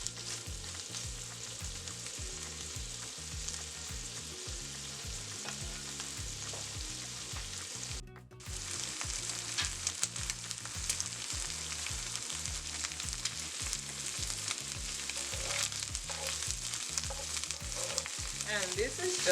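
Corn kernels frying and caramelizing in a hot pan, giving a steady, close sizzle with crackling pops throughout and a brief dip midway.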